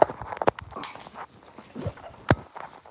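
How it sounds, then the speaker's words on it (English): A dog barks and yelps in short, scattered bursts close by, amid clattering and footstep-like knocks, with no one talking. "My dog's going crazy right now."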